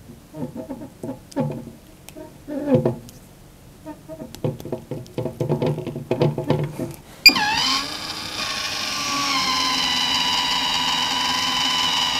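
An old motor reinstalled in a broken household fan starts up, running steadily and fairly loud with a constant whirring hum after some preceding clatter and handling noises.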